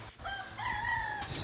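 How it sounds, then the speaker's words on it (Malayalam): A rooster in Mauritius crows once, a clear, moderately close call lasting about a second over quiet background. "മൗറീഷ്യത്തിൽ കോഴിയുണ്ട് കേട്ടോ."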